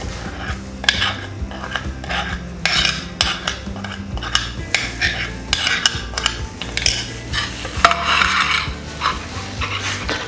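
Spices, green chili paste, salt and garlic and ginger paste are stirred together in a pan for white chicken karahi, with repeated close scraping and clinks of a spoon against metal in an uneven rhythm and no talking.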